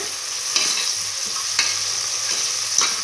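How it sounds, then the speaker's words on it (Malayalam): Onions frying in a pan while being stirred, a constant close sizzle broken by a few scraping clacks of the spoon against the pan, loud and without talk. "അതിനുശേഷം നന്നായി ഇളക്കി കൊടുക്കുന്നുണ്ട്."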